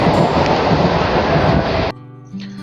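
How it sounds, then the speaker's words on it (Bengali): A local train on the Ranaghat–Bangaon line rushes through a halt without stopping: a loud, close, steady roar of wheels and wind that cuts off abruptly, leaving a quieter hum. "এই স্টেশনে কিন্তু ট্রেন দাঁড়ালো না"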